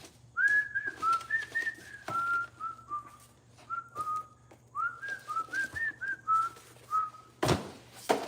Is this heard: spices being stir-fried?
no